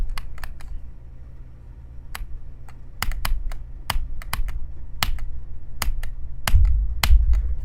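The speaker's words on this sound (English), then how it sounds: "I'm spam clicking, it didn't click." Rapid, sharp computer mouse clicks come in irregular bursts and single taps, loud and close, while a video game is played, with no talk over them.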